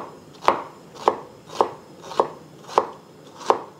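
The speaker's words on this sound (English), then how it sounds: "Just want to cut these into matchsticks." A knife chops half of a seedless English cucumber into matchsticks on a board, six crisp, evenly spaced cuts about half a second apart, close and clear with no talking.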